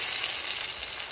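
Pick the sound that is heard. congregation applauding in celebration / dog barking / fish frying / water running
fish frying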